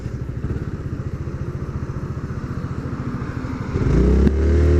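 A scooter idling in traffic, its close engine putting out a rapid regular pulse, then pulling off and accelerating, the engine note climbing louder and higher toward the end.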